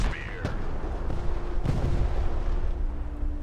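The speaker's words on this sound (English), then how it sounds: "Ineffective fire from the artillery this time." Artillery shells land in the real-time strategy game Broken Arrow: a few sharp distant booms stand out over a low rumbling battlefield bed, with a faint sustained tone running underneath.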